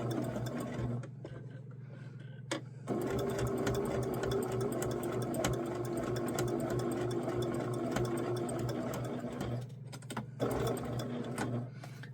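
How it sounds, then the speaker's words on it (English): A sewing machine runs almost continuously while stitching an appliqué, a close, even whir over a low hum with a couple of brief stops. "I'm almost turning the whole time while I'm sewing this"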